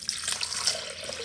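Regular tap water pours from a faucet into a blender jar, a continuous close splashing and gurgling stream without any speech.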